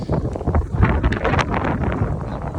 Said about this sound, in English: It's super blustery, very, very windy.